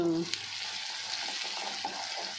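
Urad dal crackles in hot tempering oil for a fresh coconut chutney, a continuous close sizzle with a small clink or stir near the start and no talking.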